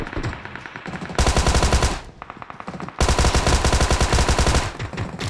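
Automatic gunfire in the BGMI battle game comes in two loud, sustained rapid bursts with quieter shots in between, close and punchy.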